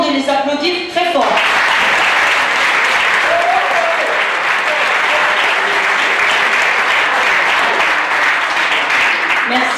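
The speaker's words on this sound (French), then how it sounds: "Alors je vous demande de les applaudir très fort." A crowd at a village festival applauds loudly, dense continuous clapping that starts abruptly after a brief spoken moment and holds steady and full to the end, with a few voices underneath.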